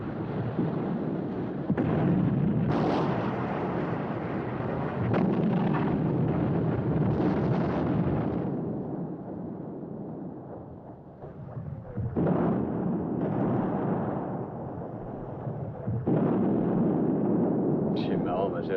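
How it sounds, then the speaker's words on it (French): Artillery cannon fire in a 1957 war film rolls as sustained, heavy booming rumbles with a few sharper blasts, dense and continuous throughout, without clear talk. "Nos canons n'ont pas du tout le même son que ceux des Japs."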